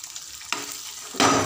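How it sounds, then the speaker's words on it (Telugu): Green chillies, curry leaves and dry red chillies hit hot oil in a pan. Two sharp bursts of sizzling flare up in quick succession and settle into a loud, close crackle with no speech. "ఇందులో వేగనివ్వాలి."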